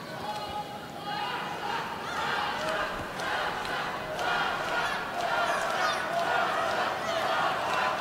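A packed arena crowd at the World Judo Championships cheers and roars continuously during a bout, a dense, steady wash of voices with a commentator talking over it.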